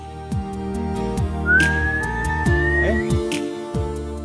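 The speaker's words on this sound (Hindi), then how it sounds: "अच्छी भली सीटी बजाती हो" A person whistles a long rising note, then a shorter bending one, near and clear over background music.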